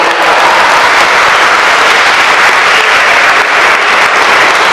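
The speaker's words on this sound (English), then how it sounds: "let's give them a round of applause" Loud, dense applause from a large crowd at a Hispanic Heritage Month opening ceremony in Cleveland City Hall, sustained evenly for several seconds without a break.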